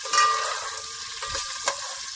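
A spoon stirs jaggery rice with raisins and almonds in a pan, giving a soft sizzle and scraping strokes with a brief louder scrape near the end, close by and with no talking.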